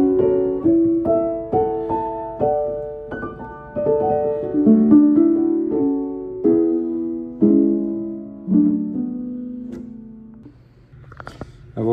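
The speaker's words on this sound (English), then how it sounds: "Piano also comes complete with a soft rail, which sounds like this." A 1969 Yamaha console piano is played with its soft rail engaged, giving gentle, muted chords and melody notes at a moderate pace, close and clear, with no talking.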